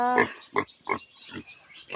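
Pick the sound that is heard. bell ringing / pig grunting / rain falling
pig grunting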